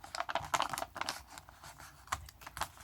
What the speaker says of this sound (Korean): 좁은 면을 밑에 있는 부분을 위에 선에 맞추어서 접어줍니다.